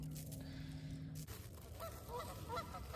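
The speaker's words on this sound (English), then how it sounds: "There go the geese." Several geese honk in scattered calls at a distance over a camping spot on an island, following a steady low hum that cuts off abruptly.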